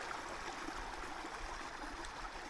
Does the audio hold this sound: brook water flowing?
yes